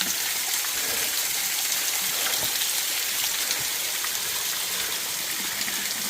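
Spring water runs steadily along a hiking trail, a constant, close, broadband rush and trickle with no pauses and no voices.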